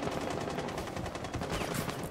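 Rapid video-game gunfire, a steady stream of sharp shots in quick automatic bursts, loud and close throughout the short clip.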